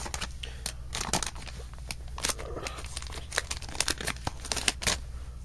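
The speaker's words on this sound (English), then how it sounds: "Well, that was easy, just rip all the way down the bottom." Foil wrapper of a 2010 Bowman baseball card rack pack being ripped open down the bottom, with crisp crinkling and tearing crackles in quick irregular bursts, close and fairly quiet.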